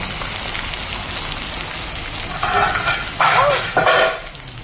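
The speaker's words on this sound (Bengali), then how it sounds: "এবার আমি এখানে ডালটা ঢেলে দেব" Dal poured into a hot pan of oil where ginger has fried until reddish brown, giving a steady close sizzle that surges into louder hissing bursts partway through.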